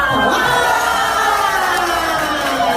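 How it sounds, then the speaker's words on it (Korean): At a year-end gathering of a singing class, a packed room of people lets out one loud, sustained roar of shouting and cheering that carries on without a break. "일단, 함성을 한번. 질러주시면 감사하겠습니다"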